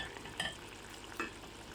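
Squid adobo with soy sauce simmering in a pot, a quiet steady bubbling sizzle with two brief louder stirring clatters near the start and middle.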